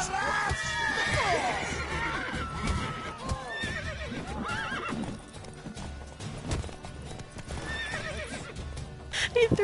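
Video game horse neighing and whinnying over steady clip-clopping hooves, loud and close throughout, with busy game effects and faint voices mixed in.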